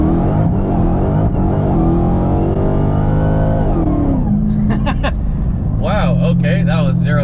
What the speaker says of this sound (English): Just completely spinning the tires, so that didn't work.